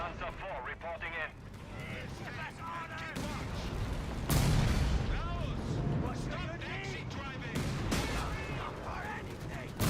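Tank cannon fire and shell impacts in the video game Company of Heroes 3: repeated sharp booms and bursts of battle noise at moderate level, mixed under game voice lines and a person talking.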